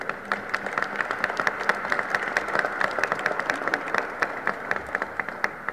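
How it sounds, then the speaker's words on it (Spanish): An audience at a sports commission event applauds a guest with sustained clapping, a steady crackle of many hands at moderate distance, individual sharp claps standing out through the whole stretch. "para quien pedimos un fuerte aplauso"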